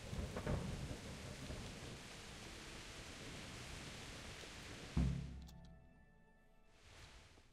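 Thunderstorm in the Kingdom Come: Deliverance video game: steady rain hiss with a distant thunder rumble early, then a sharp, loud thunderclap that decays into quieter rain.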